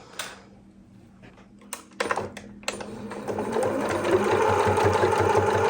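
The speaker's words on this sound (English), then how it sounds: "now I'm going to stitch this down, and that way it won't come out on me." A sewing machine stitches fabric for a harvest apron, starting after a quiet moment and then running as a steady, close mechanical whir that grows louder and more even over several seconds.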